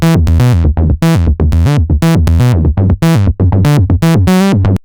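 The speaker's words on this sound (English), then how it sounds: "we can just start to increase the drive to get a little bit more distortion to the sound" Distorted acid bass synth line, driven through Ableton Live's saturator, plays a loud, steady run of short, buzzy notes in a quick repeating pattern with no voices.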